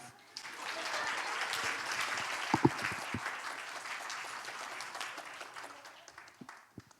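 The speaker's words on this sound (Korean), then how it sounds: "다시 한번 박수 부탁드립니다" Attendees at a forum on growth gaps among migrant-background children give a soft round of applause after a presentation. It sounds faint and somewhat distant, with a few sharper claps and murmuring.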